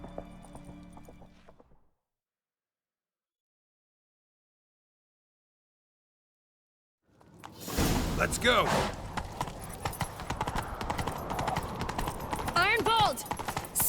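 Horse hooves pound at a gallop during a chase in The Witcher 3 video game, loud and continuous after a short silence, mixed with shouting voices and game sound effects.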